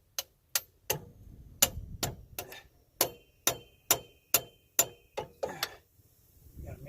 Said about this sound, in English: we're going to get our punch in the end of the axle, and then got to hit it into place.